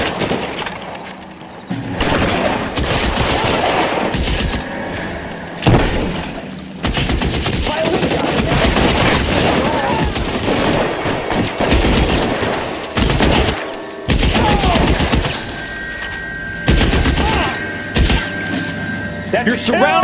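Loud, heavy gunfire in the video game LA Noire, with rapid automatic bursts, single cracking shots and thuds coming in waves, while voices shout over the shooting throughout.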